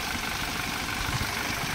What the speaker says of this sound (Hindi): ये देखो इसमें बिल्कुल साइलेंट इंजन है, 13 साल बाद भी इसमें कोई आवाज़ नहीं है भाई।